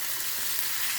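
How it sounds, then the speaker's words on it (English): Lamb chops sizzle steadily in a frying pan as they are stirred, a constant bright crackling hiss close by with no talk. "I will go ahead and stir this."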